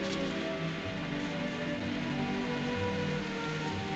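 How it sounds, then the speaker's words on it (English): Steady rain falling outdoors by a house, a dense, even patter that continues unbroken and fairly loud throughout, with no voices. "It's starting to rain."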